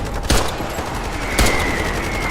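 Two sharp, loud Desert Eagle pistol shots ring out in the video game Ironsight, spaced about a second apart, each followed by a brief ringing tail over steady background noise.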